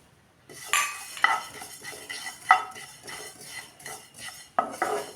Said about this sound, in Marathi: आता भाजून घेऊया हे तीळ